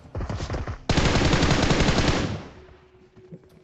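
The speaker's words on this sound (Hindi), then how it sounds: "मतलब हमारे ऊपर शॉट लिया था, तो बिना मारे तो हम छोड़ेंगे नहीं कभी।" Automatic weapon fire in PUBG Mobile, a battle royale shooter: short bursts of rapid shots, then a loud sustained volley lasting over a second before fading into a quieter tail, with no talk.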